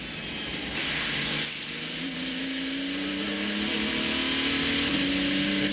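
Diesel prototype race car at speed during the 2007 ALMS Grand Prix of Mosport, a steady, fairly subdued engine drone with rising pitch as it accelerates, mixed with wind and track noise, no talk.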